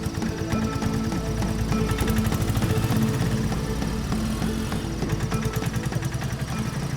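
A vehicle engine runs steadily at close range, a continuous rough mechanical drone with a fast pulsing texture that holds throughout as the vehicle moves off, with no talk over it.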